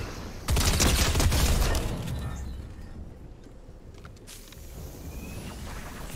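SMG fire in an online shooter wager match, a loud rapid burst of shots up close that lasts about a second and then gives way to quieter game ambience with faint movement.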